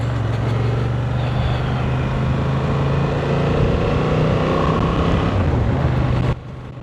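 A 2025 Honda Transalp 750 motorcycle engine hums steadily at cruising speed while riding, its drone mixed with strong wind rush before cutting off abruptly near the end.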